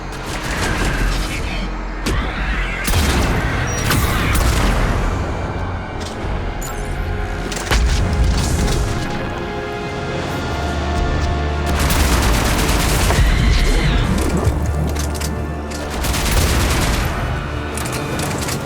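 Mass Effect 3 combat on ultra hard fills the stretch with loud bursts of rapid gunfire and heavy booms, rising and falling in dense waves, with a voice talking faintly underneath at times.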